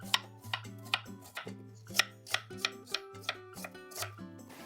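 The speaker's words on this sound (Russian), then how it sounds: "и режу средними кусочками." A knife chops peeled apples into medium pieces. About a dozen crisp, evenly paced cuts land close by and fairly quietly, with no voices.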